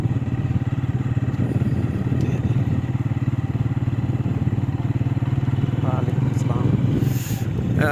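A motorcycle rides through cold, foggy morning weather with a close, loud engine chugging in a steady rapid rhythm plus wind rumble, with a faint clatter near the end.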